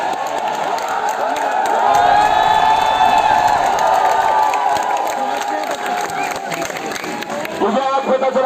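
A packed protest crowd at Jantar Mantar, Delhi, on the second day of a march to Parliament, sends up sustained cheering and shouting that swells and holds throughout, loud and dense, with individual voices rising out of the roar.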